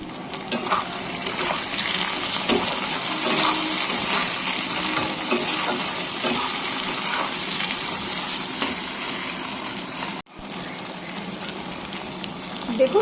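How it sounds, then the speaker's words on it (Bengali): Prawns frying in oil for a Bengali prawn curry are stirred with a spatula, making a loud, close sizzle with scraping and clinks that breaks off briefly near the end and then resumes. "চিংড়ি মাছগুলো ছেড়ে আর একবার আমি কষিয়ে নেব।"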